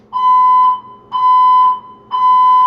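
An apartment fire alarm sounds three long, loud electronic beeps in a steady on-off pattern, each tone lasting about half a second with brief gaps between.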